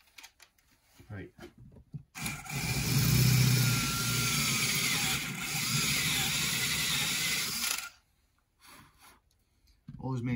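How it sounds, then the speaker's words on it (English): A power drill bores out a hydraulic brake or clutch cylinder part, running steadily and fairly loud for about six seconds between quiet stretches with faint handling noise. "This isn't the best of drills"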